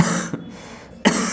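A single person coughs twice, a short harsh burst followed by a louder one a moment later, close and clear against quiet background.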